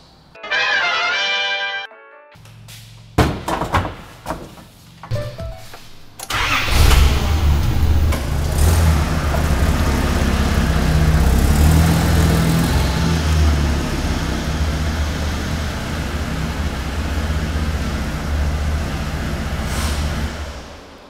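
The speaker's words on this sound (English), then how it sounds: "I'm going to make this car run for the very last time using this engine" An Audi V10 TDI diesel swapped into a twin-turbo Nissan Patrol Y60 shorty cranks with a whine and a few clunks, catches, and settles into a loud, steady, rumbling idle that holds for the rest of the clip with no talking.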